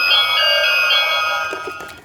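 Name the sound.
toy doorbell ringtone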